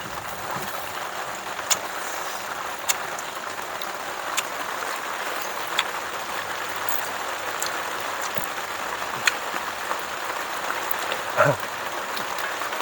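Steady rain falls in a wide, even hiss throughout, with scattered drips and taps on surfaces standing out now and then.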